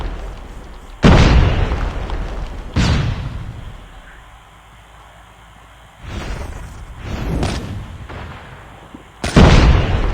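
Loud booming sniper rifle shots in Call of Duty Mobile crack out a few seconds apart, each with a sharp onset and a rumbling tail, over a quiet background.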